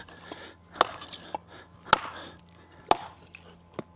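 A Work Tuff Gear Nomad Camp 12 chopper bites into wood in four sharp, close chops spaced about a second apart, each a crisp crack over a quiet background.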